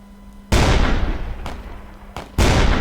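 Three loud, heavy shots from the Skut AMR sniper rifle in Roblox Edward the Man-Eating Train, each a sharp blast followed by a decaying boom, with a quieter crack between the second and third.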